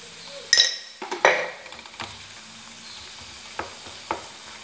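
Kofta meatballs frying with spices in a pan, a continuous close sizzle punctuated by sharp metallic clinks and scrapes of a utensil stirring, the strongest knocks early on, with no voices.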